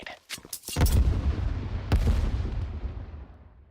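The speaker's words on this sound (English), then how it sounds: "Fire in the hole! Grenade!" Grenade blast followed by a burst of gunfire in a Counter-Strike match, loud and close, with a second heavy boom rolling into a long rumbling tail.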